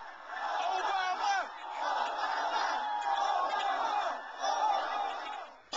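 A huge crowd at Barack Obama's presidential inauguration roars and cheers in long swelling waves, dense and sustained, with a loud burst near the end.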